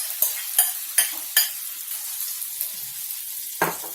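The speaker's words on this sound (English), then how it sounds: "We'll give this a little bit of a stir. We want these chilies to fry a bit." Green chilies frying in a pan while being stirred, with several sharp scraping clatters from the spoon and a steady soft sizzle in between, no talking.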